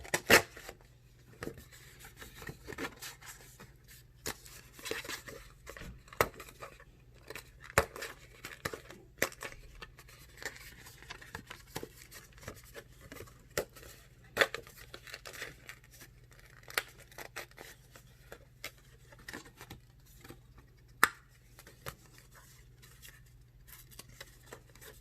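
Scissors cut out paper hangtags in a string of close, crisp snips and rustles that come in irregular bursts, with the paper crinkling between cuts and no talk.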